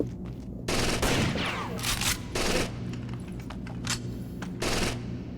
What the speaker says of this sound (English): Yeah, he's getting shot up.